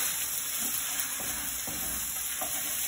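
Kedgeree gets stirred in a hot pan, a spoon scraping the bottom in regular strokes over a low, even sizzle, close and fairly quiet throughout.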